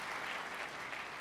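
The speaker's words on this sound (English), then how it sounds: "it's okay to clap" Theater audience clapping at a live talk event, a dense, steady wash of applause throughout the brief moment.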